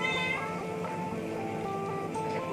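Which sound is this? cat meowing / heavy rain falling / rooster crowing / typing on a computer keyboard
cat meowing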